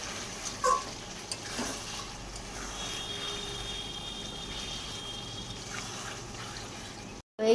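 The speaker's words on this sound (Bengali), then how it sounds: "এদিকে আমি চিকেনের ঝোল বসিয়ে দিয়েছি, একদম লাল লাল ঝোল, জল দিয়ে দিয়েছি" Red chicken curry with water added bubbles and sizzles steadily in a pan, a soft continuous simmer with faint stirring clinks, close by and moderately quiet, with no talk.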